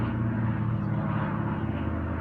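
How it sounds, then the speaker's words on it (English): A low, steady airplane drone rumbles overhead in Denmark, continuous and fairly faint, with no voices. "There's an airplane."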